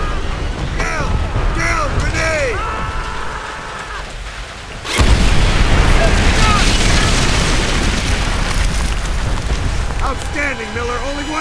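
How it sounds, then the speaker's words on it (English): A grenade explodes in the World War II shooter Call of Duty: World at War, a sudden loud boom midway that leaves a rumbling, debris-filled wash over ongoing battle noise and voices. "Down! Grenade!"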